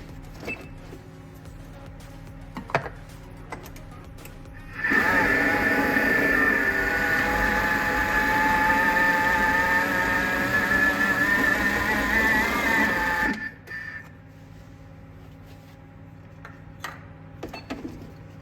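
Marble cake mixture beaten until creamy with an electric hand mixer, a steady loud whirring drone that runs for about eight seconds and then stops abruptly.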